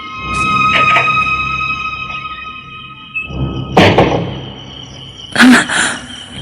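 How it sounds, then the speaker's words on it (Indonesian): A door being locked, heard as a few sharp thunks and clicks spaced a couple of seconds apart, fairly close, over a steady low background hum with no talk. "Suara pintu dikunci."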